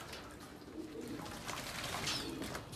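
Racing pigeons coo softly nearby on a muggy overcast day during bath time, low murmuring calls repeating over faint background noise and light splashes.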